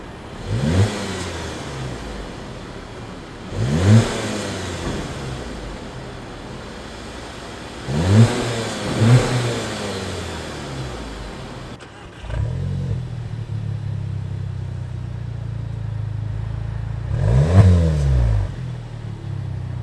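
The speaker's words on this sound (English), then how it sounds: "We just came back from DOS Auto getting our MBRP exhaust installed." A Volkswagen Alltrack with a newly installed MBRP exhaust system revs in several sharp, loud bursts, each swelling and falling back to a deep idle rumble between them.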